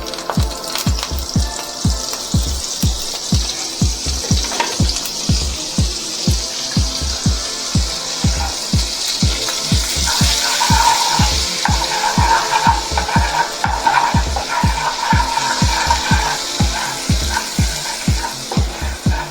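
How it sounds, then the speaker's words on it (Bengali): Butter sizzles in a pan over a low gas flame with a little oil, a steady fizz running throughout, cut by regular soft scraping strokes of stirring up close, with no talking. "তো বাটার মেল্ট হয়ে গেছে।"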